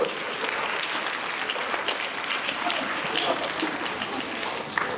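An audience at a children's academy Victory Day event bursts into sustained, dense clapping that holds steady throughout.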